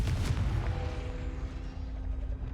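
A Confringo fire spell bursts in the Hogwarts Legacy video game, a dense rumbling blast with a sustained roaring tail and a faint tonal hum underneath, loud and close.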